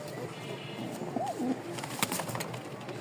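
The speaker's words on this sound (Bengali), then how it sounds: "এখানে দুই জোড়া কবুতর আছে।" Pigeons in a cage kept for sale, white ones and a black pair among them, give soft repeated coos at moderate distance, mixed with light rustling and faint scattered knocks.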